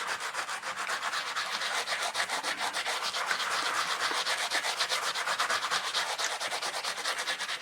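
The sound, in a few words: sanding a cast air freshener with rough sanding side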